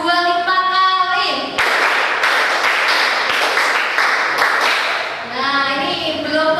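An Indonesian school class claps hands together in a quick burst of several sharp, roughly rhythmic claps. A teacher's voice is heard before and after.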